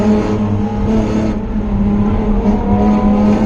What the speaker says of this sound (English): As we get back on throttle, we're just going to maintain our throttle